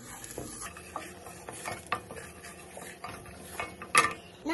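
Kashmiri red chili being stirred and sautéed in a pan for paneer butter masala, with soft scraping spoon strokes and a light sizzle, a few sharper clinks of utensil against metal near the end.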